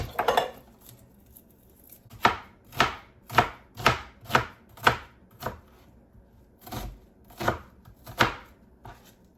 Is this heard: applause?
no